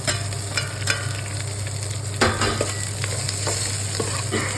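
Ginger and garlic frying in a pan for Telangana-style bagara rice, a constant close sizzle with occasional stirring scrapes and a sharper clatter midway, no voices.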